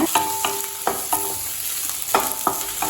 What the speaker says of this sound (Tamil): 2 வெங்காயத்தை சேர்த்துக்கலாம். வெங்காயத்தை நல்லா வதக்கிக்கலாங்க.